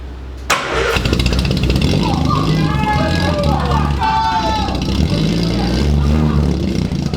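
A 1973 Triumph GT6 barn find cranks and fires up after a sharp start, then settles into a loud, rough, steady idle close by with a few revs, while people talk over it.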